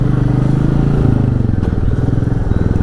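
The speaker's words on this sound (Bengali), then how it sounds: "পেছনের ব্রেক আর ইঞ্জিন ব্রেকটা বেশি ইউজ করি।" A motorcycle descending a steep hill road on engine braking, its engine giving a steady, close, loud low pulsing drone with a faint clatter and no voices.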